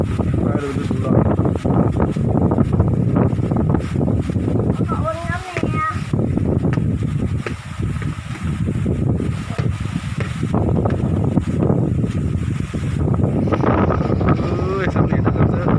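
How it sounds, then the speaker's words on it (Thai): Strong storm wind blows steadily through an open rice field at harvest time, roaring loud throughout with gusty buffeting on the microphone, while people talk over it. "ครับลมแรง"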